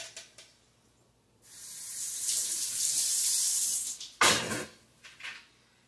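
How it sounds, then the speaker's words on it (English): Soaked beans are drained in a kitchen sink, a steady rush of running water and splashing for a few seconds close by, then a sharper splash and a few fading drips. "And you're gonna drain them."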